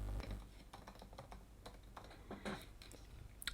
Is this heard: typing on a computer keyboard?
yes